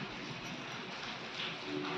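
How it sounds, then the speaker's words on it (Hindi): Heavy rain falling outdoors in a storm, with strong wind, after a festival: a dense, steady, loud hiss of rain that runs without a break from start to end, with no voices heard. "इतनी तेज़ बारिश हो रही है"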